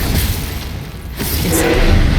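The Confringo explosive spell goes off in Hogwarts Legacy as a loud, full booming blast with a brief whooshing swell and rumbling tail, close and heavy, with no speech.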